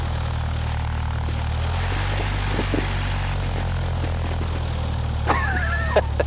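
A propeller airplane engine in a video game gives a steady, loud droning hum throughout, with faint bird-like chirps and a brief synthetic tone toward the end.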